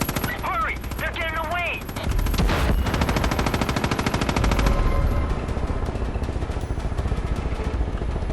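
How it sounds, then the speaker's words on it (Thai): Machine gun fire in the video game Far Cry 5, a long sustained rapid rattle of automatic shots under an engine-like drone, with brief voices and game sounds near the start. "สต็อปคาราวานได้ ไม่มีปัญหา กูยิงเลย"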